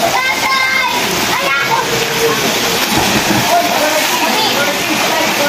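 Water splashes and sloshes constantly in a resort swimming pool, a loud, dense wash of churning water with children's voices faintly mixed in the background.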